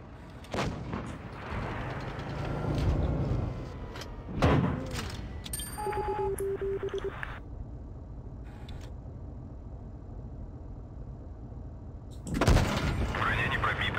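Tank cannon blasts in World of Tanks Blitz, a few loud booming shots spaced apart with engine rumble and game interface tones between them, someone speaking over parts.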